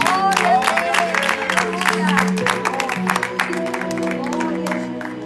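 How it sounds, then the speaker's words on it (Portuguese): A church congregation at an evangelistic service claps along joyfully, with dense rhythmic applause, some cheering voices and singing or talk mixed in throughout. "Pode aplaudir ao Senhor Jesus com as palmas bem alegres."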